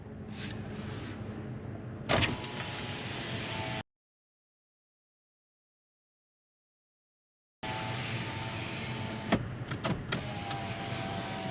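Car power windows with auto up and down whir steadily as the motor drives the glass, each run ending in a soft thunk, with a gap of silence between two runs.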